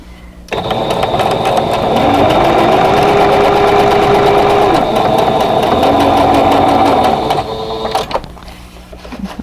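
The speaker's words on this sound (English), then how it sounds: "we're going to sew 1/4 inch away on both sides of this line" A sewing machine stitches quilt pieces a quarter inch from a line in one continuous loud run, its motor pitch shifting slightly mid-seam before it stops.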